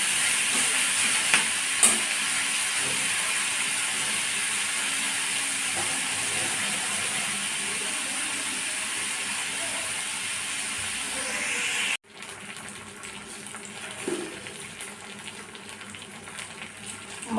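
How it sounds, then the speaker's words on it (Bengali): Onions frying with salt in a pan, a dense close sizzle with occasional scrapes from stirring that drops suddenly to a softer, quieter fry about two-thirds of the way through. "নুন দিয়ে নেড়ে চেড়ে ভাজলে তাড়াতাড়ি পেঁয়াজটা ইয়ে হয়ে যায় নুন দিয়ে ভাজতে লাগলাম"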